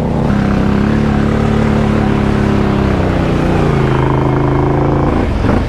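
An ATV four-wheeler stuck in a hole revs loudly and continuously up close, the engine droning and wavering in pitch before a sharp drop near the end.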